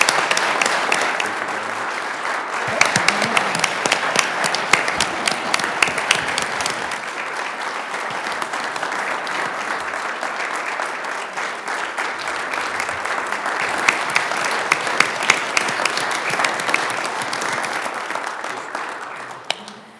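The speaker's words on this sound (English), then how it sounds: "Let's give these guys a big round of applause for all they do." A city council meeting audience gives sustained applause lasting about twenty seconds, a dense, even roar of many hands clapping that fades at the very end.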